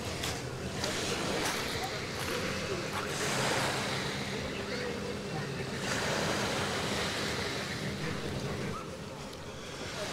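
Surf washes steadily onto a beach of coarse sand mixed with small pebbles at Alushta, Crimea, with a continuous broad rush of breaking waves that swells and eases, joined by wind buffeting the microphone.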